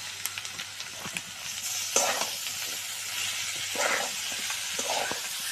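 Noodles stir-frying in a pan with chicken, potato and egg, a steady close sizzle and hiss with occasional scrapes of a spatula and no voices.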